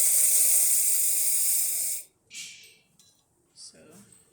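The steam wand of an Olympia Cremina espresso machine, fitted with new gaskets, lets out a loud, close, bright hiss for about two seconds. It cuts off sharply, followed by a few short, softer puffs.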